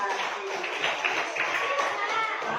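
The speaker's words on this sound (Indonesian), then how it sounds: "Tepuk tangan untuk kelompok 1" Classroom applause for a student group after its presentation, a short steady patter of children's clapping heard close and fairly soft, with faint voices mixed in.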